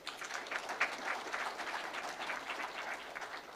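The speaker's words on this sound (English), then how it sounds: "And that, I think, deserves a clap." Audience applause at a judiciary annual report launch, a dense, even wash of many hands clapping, moderately distant and sustained without any voices over it.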